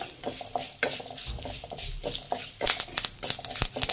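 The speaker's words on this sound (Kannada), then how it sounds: "ಮೀಡಿಯಂ ಫ್ಲೇಮಲ್ಲಿ ಇಟ್ಟು ಫ್ರೈ ಮಾಡಿ" Curry leaves and black pepper being fried and stirred in a pan on medium flame, with steady crackling sizzle and repeated scraping stirs of a spoon against the pan, close up.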